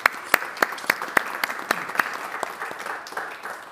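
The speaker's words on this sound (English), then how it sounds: "Yeah, applause." Applause from an audience after a talk on the war in Ukraine and its consequences, a steady patter of clapping with sharper individual claps standing out near the front.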